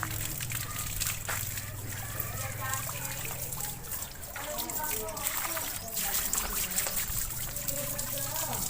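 Water is poured and splashes while someone is being bathed, with trickling and sloshing running throughout under nearby talking voices.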